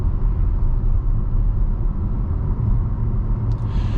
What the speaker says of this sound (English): you can hear the tires. There is some tire noise